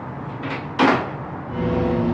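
A mirror jolts suddenly, giving a short wooden knock and scrape like a cupboard door shifting, then quieter rustle in a still room.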